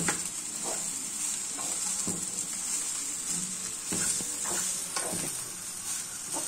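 Beaten egg being chopped up with a utensil while it fries in a pan for fish fried rice, with a steady close sizzle and repeated scraping strokes against the pan.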